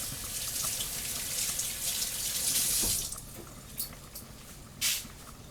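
Tap water runs steadily into a sink during handwashing after canning chili, a continuous hiss that eases off midway, followed by a few faint drips and clinks.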